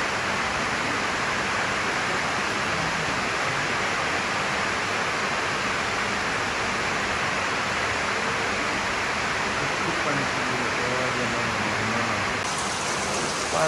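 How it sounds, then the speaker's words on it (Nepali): Heavy rainwater gushes like a waterfall at a school during a downpour. It makes a dense, unbroken roar of pouring and splashing water that stays steady and fairly loud throughout, with no speech. "पानीको झरना जता कतै बनिरहेको छ"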